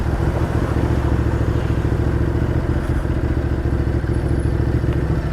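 A motorcycle being ridden, its engine giving a loud, close, steady throbbing drone with rapid rhythmic pulsing and a little clatter, unbroken throughout with no talking.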